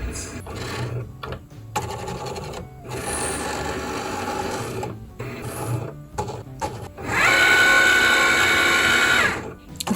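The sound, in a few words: Cricut cutting machine scanning registration marks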